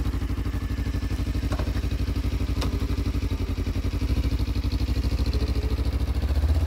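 Suzuki DL250A V-Strom motorcycle engine running steadily nearby, a continuous low, even putter with faint clatter and a slight rise in level toward the end.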